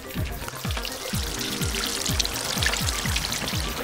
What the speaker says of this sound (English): So I've just filled mine up with water. She's having a good glug, glug, glug.